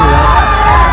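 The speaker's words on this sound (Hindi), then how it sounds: "बहुत ज्यादा भीड़ है।" Large crowd at the Kumbh Mela drone show in Prayagraj cheering and shouting loudly, a dense, close roar of many voices filling the whole brief moment.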